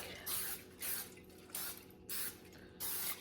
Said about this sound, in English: we're gonna go ahead and spray our crock pot really well so it doesn't stick